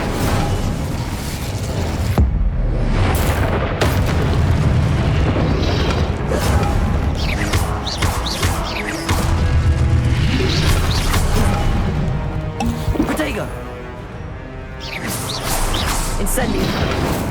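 Repeated fiery spell blasts from Hogwarts Legacy, Incendio and Confringo, boom and whoosh in loud bursts one after another, with crashes and impact noise over steady game combat ambience and a voice shouting the spell names.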